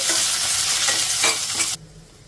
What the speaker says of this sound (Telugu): ఇప్పుడు మీడియం ఫ్లేమ్లో ఇలా కలుపుకుంటూ 1 నిమిషం ఫ్రై చేసుకోవాలి